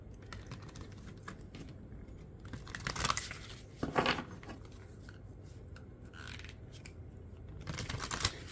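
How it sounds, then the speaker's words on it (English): Oracle cards are shuffled and drawn close up, with soft rustles, light taps and a few sharper card snaps over a quiet room. "I'm going to get a couple more oracle cards for you"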